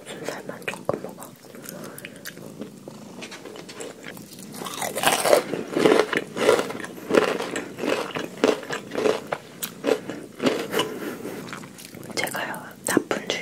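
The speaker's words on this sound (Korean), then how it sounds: "도도는 순살만 조금 먹어" A cat chewing a little boneless meat up close, with wet, crunchy bites in a quick uneven rhythm that grows busier in the middle and faint whispering talk in the background.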